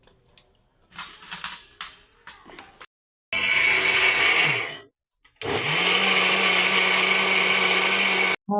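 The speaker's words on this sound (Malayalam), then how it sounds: "ഉഴുന്ന് കുതിർത്തിയതായിരുന്നു അത് ഞാൻ അരയ്ക്കാൻ പോവുകയാണ്" Mixer grinder whirring at full speed as it grinds soaked urad dal with cooked rice into idli batter, two loud sustained bursts with a brief pause between, after quieter kitchen handling sounds.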